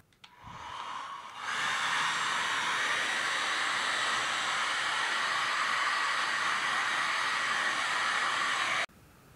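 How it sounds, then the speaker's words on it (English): A hair dryer blows steadily on freshly painted wood, a continuous close airy roar that switches on after a brief start and runs unbroken until it cuts off at the end. "so now on to the hair drying."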